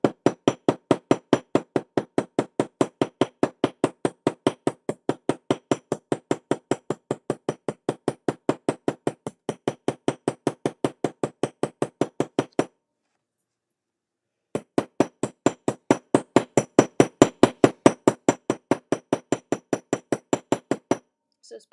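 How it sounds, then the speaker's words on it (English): Steady, even hammer blows from the round face of a hammer set jewelry eyelets, each strike a sharp metallic tap, with a short pause midway before the rhythmic hammering resumes. "I like using the round side of my hammer for the eyelets"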